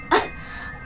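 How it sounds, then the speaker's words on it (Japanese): A single short cough from someone sick with a cold, close to the mic, then a brief second burst at the very end. "なんか咳が出るな"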